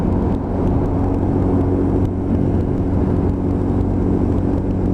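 Lexmoto LXR 125cc motorcycle riding along, a steady close engine drone with a low harmonic hum and rushing wind, holding an even pitch through the short stretch.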